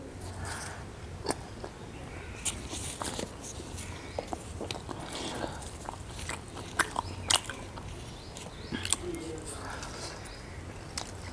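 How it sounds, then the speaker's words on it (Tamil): Someone eating chapati with a spicy onion-and-masala thokku cooked in sesame oil, soft chewing and biting sounds repeating throughout over a noisy background, with scattered voice sounds. "ஸோ அந்த ரெடி பண்ண தொக்கை இப்போ நான் சாப்பிட்டு பார்க்குறேன்"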